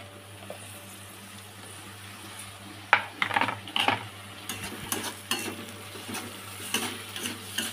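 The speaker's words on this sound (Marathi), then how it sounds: "तर आता आपण घेऊया हे टमाटर त्यात टाकायला." Tomatoes tipped into egg bhurji frying in a pan and stirred, with a steady low sizzle and a burst of scraping, clattering spoon strokes midway, then lighter intermittent stirring; no talking.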